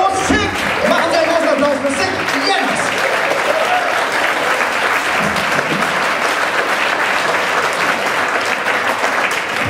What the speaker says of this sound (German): Machen Sie einen großen Applaus!